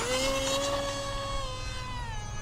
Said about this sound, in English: Throttling up.